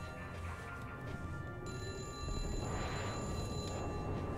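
A telephone rings in a building's quarters in Sniper Elite V2, repeated bright ringing tones over a low ambient game rumble, growing louder partway through, with no voices.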